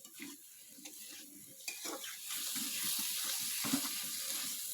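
Curry mixture poured into a pan of frying potatoes with ginger-garlic paste, giving a steady, close wet sizzle and splashing that swells and holds for several seconds, with no voices.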